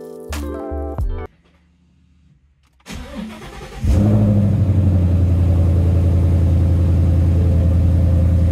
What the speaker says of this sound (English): Here we are, you can hear the rumble. It is a V8 manual 5-litre Mustang from 2016